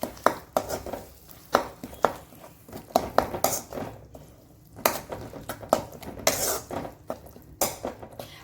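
A utensil scrapes and clanks against a pan while curry leaf rice is stirred and fried with salt. The sharp metallic knocks come in an irregular rhythm over a soft background sizzle.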